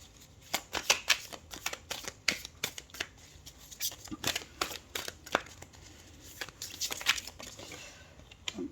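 A deck of tarot cards is shuffled by hand, producing a quick run of crisp riffling snaps and papery flutters up close, with brief pauses between bursts.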